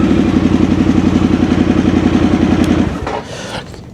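A 2022 Harley-Davidson Sportster S engine running close by, a loud, steady, pulsing rumble held for about three seconds, then cut off abruptly, leaving a fainter mechanical tail with a few clicks.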